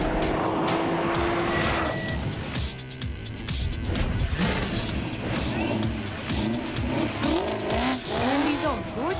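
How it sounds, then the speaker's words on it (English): An FPV Typhoon race car launches hard down an airstrip, its engine revving loud and close with tire squeal and skidding, while other engine sounds rise and fall and a voice talks over the action. "Look at the car go! It belongs on this airstrip."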